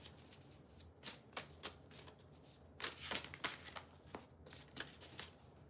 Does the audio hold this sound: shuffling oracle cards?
yes